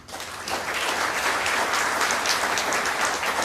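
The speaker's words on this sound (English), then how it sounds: "give them a round of applause too, please" An audience at a Rotary Club 9/11 memorial plaque ceremony applauds Pasco Fire Rescue Station 27, a sustained, even burst of many hands clapping close by from start to finish.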